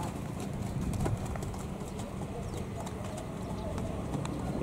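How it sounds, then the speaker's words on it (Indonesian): Racehorses walk back from morning training at a hill track, hooves clip-clopping in a steady close patter while pigeons coo faintly in the background. "Beberapa ekor kuda yang sudah selesai latihan."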